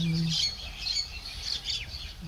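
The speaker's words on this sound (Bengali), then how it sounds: "সরিষা ক্ষেতের পাশেই কত পাখি কিচিরমিচির করতেছে" Birds beside a mustard field in a rural village chirp and squawk in repeated bright calls, moderately near and steady, with a brief low hum at the start and no talk.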